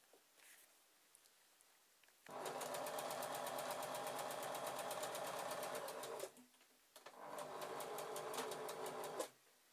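A sewing machine stitches a narrow, twice-turned hem seam on a chemise in two steady runs: a long whirring burst, a brief pause, then a second shorter burst, each loud and close.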